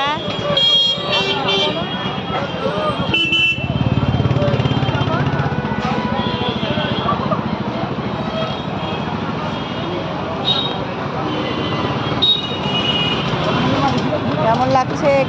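Dense roadway traffic on a street lined with puja-supply shops, with engines rumbling and horns tooting near and far, loud and continuous beneath someone talking.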